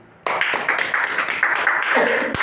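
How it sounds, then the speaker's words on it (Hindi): Audience breaks into loud, sustained applause at a health-product talk, a dense wash of clapping that starts abruptly after a brief quiet and carries on steadily to the end. "तो गानो जी प्लस पेस्ट के लिए एक जोरदार ताली।"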